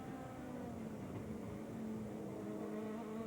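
A GT2 race car engine at the 2002 SCCA Runoffs gives a steady, buzzing onboard drone whose pitch creeps slightly upward, continuous and moderately quiet throughout.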